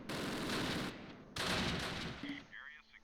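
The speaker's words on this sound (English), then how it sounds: "Oh, we're being shot at." Gunfire in the Close Combat Last Stand Arnhem war video game, two dense bursts of rapid shots close together, each cutting off abruptly, then fading into softer tones at the end.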